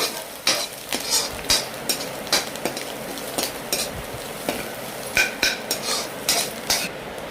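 Repeated scraping strokes stir chilli powder through Maggi egg noodles in a pan, with a steady frying sizzle underneath and the irregular knock of a utensil against the cookware, close and fairly loud.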